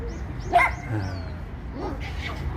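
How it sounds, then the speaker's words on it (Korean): Dogs bark excitedly in an outdoor park, several short yips and barks at moderate distance against faint background ambience, with a brief voice in between. "강아지들이요 아주 난리가 났어요"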